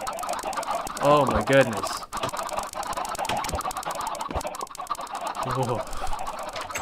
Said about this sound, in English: These chickens are bullies.